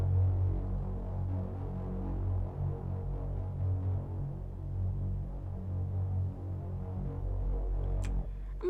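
A Reese bass made in the Serum synth drones as one low, thick, throbbing sustained tone with a slow wobbling phasing, steady and loud, then a brief higher glitchy sweep near the end.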